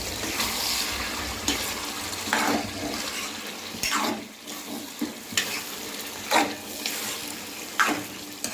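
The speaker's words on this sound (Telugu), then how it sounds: "చికెన్ ఉడుకుతూ ఉంటుందండి." Chicken curry with ginger paste and salt sizzles in hot oil in a pan, a continuous close frying hiss broken by repeated scraping stirs, with no one talking.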